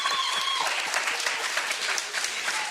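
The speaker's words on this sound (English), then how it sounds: "In front of our live audience, give yourselves a big round of applause." A live studio audience at a radio broadcast from Fort Monroe applauds in a brief, dense round of clapping, fairly close and steady, with a faint tone or voice in the background.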